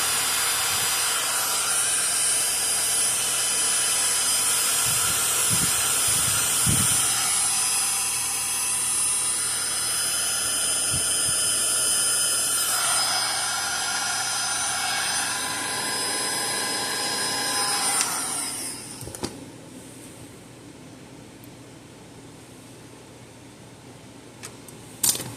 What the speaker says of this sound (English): let's slowly heat shrink everything